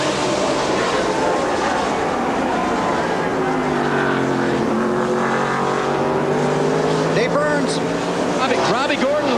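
NASCAR Cup race cars at Watkins Glen, engines roaring loudly and continuously as they pass and shift, with commentators talking over the noise throughout.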